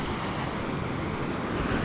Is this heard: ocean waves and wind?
yes